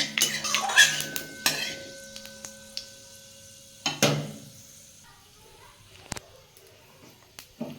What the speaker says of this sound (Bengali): পাঁচফোড়নটা আমি একটু ভেজে নিচ্ছি